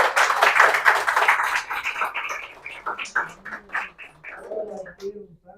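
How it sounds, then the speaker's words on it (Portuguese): A church congregation applauds, a burst of many hands clapping that is loud at first and then thins into scattered claps and fades, with voices coming in under the tail. "Vamos aplaudir a Jesus?"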